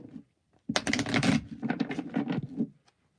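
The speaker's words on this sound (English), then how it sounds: "One more shuffle for my Taurus friends." A deck of cards being shuffled by hand, one quick riffle of dense rapid flutters close to the ear, lasting about two seconds and ending in a few softer taps.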